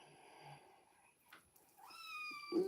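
A cat gives a rising, drawn-out meow close by after some soft rustling and breathy sounds.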